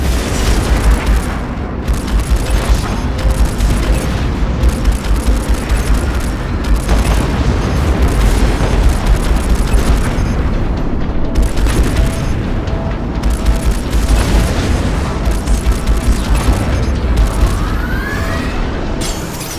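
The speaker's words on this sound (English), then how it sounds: "Switch to machine guns to strip down their shields." Sustained machine gun fire and booming explosions in the space combat game Strike Suit Zero, a loud, dense, unbroken wall of rapid shots and blasts, with no talking.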